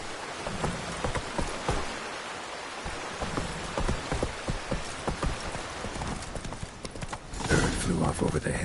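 A horse gallops in The Witcher 3, its steady clip-clop hoofbeats drumming continuously throughout, with a voice speaking over it.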